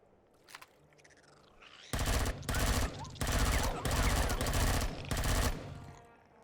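Rapid bursts of automatic gunfire in a video game, four or five loud sustained volleys in quick succession.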